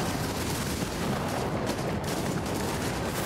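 A rocket launches and blasts in a Starfield firefight, a loud, broad roaring burst that sustains throughout with rumbling explosive texture.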